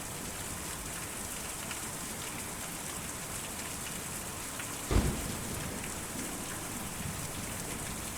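Storm scene in the video game Kentucky Route Zero: steady, dense rain pours throughout, with one brief thunder crack near the middle, then the downpour goes on.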